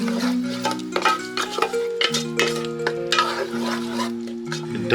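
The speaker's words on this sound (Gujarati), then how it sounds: "ક્રશ ટામેટાની પેસ્ટ, 1/2 ચમચી મીઠું, બધાને સરસ મિક્સ કરી દઈએ." Crushed tomato paste with salt and roasted dry spices being stirred in a pan, with repeated scraping and clinking spoon strokes over a faint sizzle, close and fairly loud, no talking.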